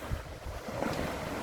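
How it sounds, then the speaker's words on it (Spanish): Waves rolling across Lake Tota, a large high-altitude lake in the Colombian mountains, with heavy wind buffeting the microphone and a steady low rumble of water, no voices. "Hace unas olas bastante grandes."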